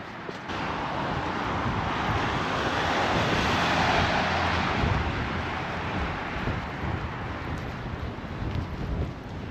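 Strong, cold wind on the Reykjavik coast in Iceland buffets the microphone in a continuous roaring rush that swells in the middle and eases slightly toward the end, with no voices.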